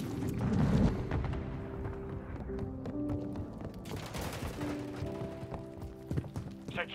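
Rapid gunfire in Call of Duty Modern Warfare 3, dense bursts of shots mixed with mechanical clatter, moderately loud and continuous throughout.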